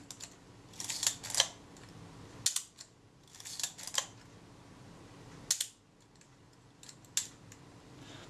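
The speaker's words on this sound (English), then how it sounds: "I can hear that film release pop back up there." Shutter release mechanism of a Kodak Retina IIIS film camera under repair, giving small, close mechanical clicks and snaps in scattered bursts across several seconds, without talk.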